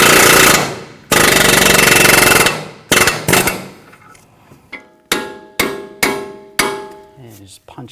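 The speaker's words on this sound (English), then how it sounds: "or just a punch and a hammer." Hammer blows drive a punch through the front upper control arm ball joint of a 2004-2009 Audi A4 Quattro; loud broadband noise fills the opening seconds, then a series of sharp, ringing metallic strikes follow at a steady, spaced rhythm.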